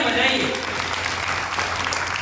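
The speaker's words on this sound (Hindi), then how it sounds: "जोरदार तालियां बजाइए।" Audience applause at a Hindi religious gathering, a dense wash of clapping that fills the short clip at steady loudness, with a voice faintly present underneath.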